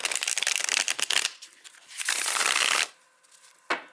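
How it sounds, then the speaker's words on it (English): Crisp riffling bursts of cards being shuffled, several quick rounds in a row, close and fairly loud, ending with a brief final snap. "It's decent to shuffle with."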